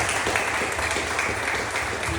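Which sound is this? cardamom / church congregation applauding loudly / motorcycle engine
church congregation applauding loudly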